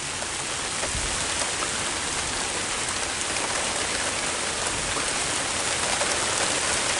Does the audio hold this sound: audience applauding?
no